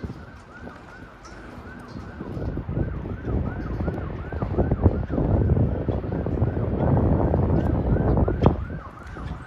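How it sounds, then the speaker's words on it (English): Emergency vehicle sirens wail through a street near Coney Island, Brooklyn, New York, a repeating rising-and-falling siren that grows louder and closer over nine seconds amid heavy wind noise buffeting the microphone. "you guys probably hear the sirens in the background"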